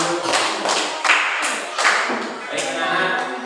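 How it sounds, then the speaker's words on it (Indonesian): A classroom of students claps their hands together in several uneven bursts, loud and close, with some rhythmic patting between them. "Tepuk tangan."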